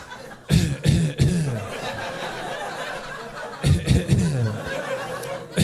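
A man imitates a cough with his voice during a stand-up comedy bit, two clusters of short, forceful cough-like bursts, close and prominent, over a murmuring audience.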